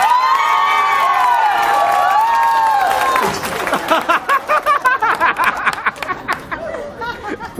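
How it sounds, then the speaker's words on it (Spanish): A studio audience at a Mexican talent-show elimination round cheers and whoops loudly at first, then breaks into rhythmic clapping and applause that carries on to the end. "¡El aplauso para la número 3!"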